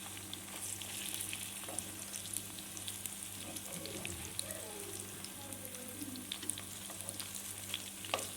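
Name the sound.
shahi seekh kebabs frying in a pan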